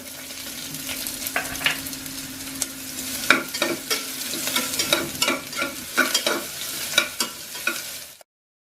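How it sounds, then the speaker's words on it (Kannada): Onions fry in hot oil with mustard seeds, dried chilli and curry leaves while a spoon stirs them, giving a steady close sizzle broken by repeated scraping knocks against the pan, with no talk. "ಈಗ ಈರುಳ್ಳಿ ಹಾಕೊಳ್ತೀನಿ."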